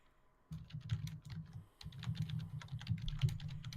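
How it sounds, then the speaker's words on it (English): Rapid typing on a computer keyboard starts after a brief pause. The keystrokes come as a dense, continuous patter, close and fairly soft, with one short break partway through. "Sounds like somebody is typing rapidly."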